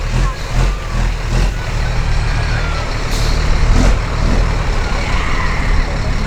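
At a car show of modified classic automobiles, a truck with air brakes rumbles nearby in a steady, loud drone, with brief hissing bursts from the brakes and faint crowd chatter underneath.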